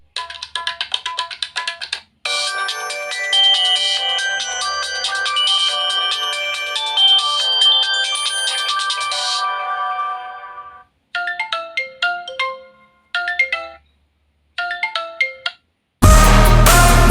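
Incoming-call ringtone from a Tecno Spark 8P phone: a loud, bright melodic tune plays alone for about ten seconds, then breaks into short repeated phrases separated by pauses, ending in a burst of broadband noise.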